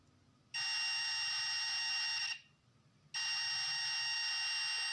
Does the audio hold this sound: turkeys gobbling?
no